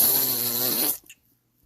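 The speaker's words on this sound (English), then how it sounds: "You're going to get a nice fat ass fart" One loud, close, buzzing fart sound effect lasts about a second, then cuts off abruptly into near silence.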